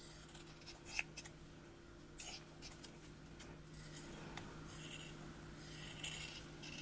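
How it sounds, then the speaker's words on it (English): Scissors cut out felt shapes in a series of quiet, close snips and soft scraping strokes at an uneven pace. "fusible side down, and iron. And cut them out."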